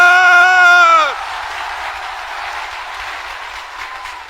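A large crowd at a rally shouts together with raised hands, a loud, sustained roar that follows a single strong voice leading in at the start and continues steadily to the end.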